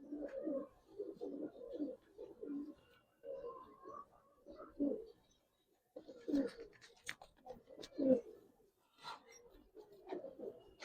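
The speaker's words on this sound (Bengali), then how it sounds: "দেখেন চারটা কবুতর" Giribaz pigeons at a seller's coop coo in repeated soft, throaty bursts, several birds close by with short pauses between calls and faint background noise.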